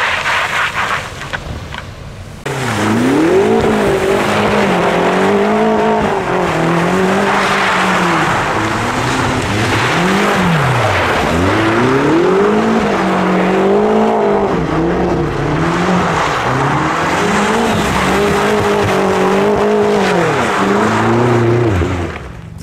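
A Mercedes CLS drifts on snow with stability control switched off, its engine revving hard in loud wavering surges and falling pitch sweeps throughout, close and continuous.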